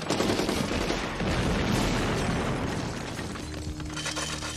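Gunfire from the 1991 comedy film The Naked Gun 2 1/2, a dense burst of loud shots and crashing impacts filling the whole stretch, easing slightly toward the end.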